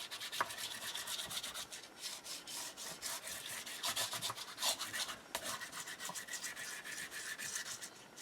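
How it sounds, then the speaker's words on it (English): A handmade journal binding is burnished by hand, giving soft, quiet rubbing strokes that repeat in a steady back-and-forth rhythm, close up and with no voices. "Now I'm going to flip this over and I am going to burnish."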